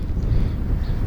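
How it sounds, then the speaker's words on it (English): Low, rumbling buffeting of wind hitting a microphone on a beach in Fife, Scotland, constant and loud throughout with no other clear sounds. "You have to excuse the wind."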